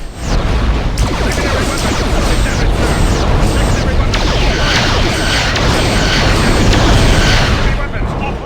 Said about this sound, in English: The quantum torpedo sound is also wrong.